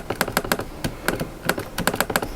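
Sharp plastic touchpad clicks from a Lenovo IdeaPad Slim 5 laptop come close up in an irregular run, some quick pairs and clusters, others spaced apart, with quiet between them.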